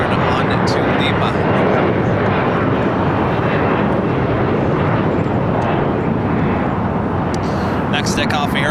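A jet airliner roars down the south-side runway at LAX on takeoff, a loud steady broadband rumble that holds for several seconds, with a voice talking over it.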